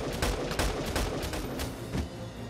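Rapid gunshots in Valkyria Chronicles 4, about half a dozen sharp cracks spaced through a steady battle backdrop, fairly loud with no talking.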